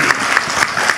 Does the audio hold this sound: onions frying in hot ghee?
no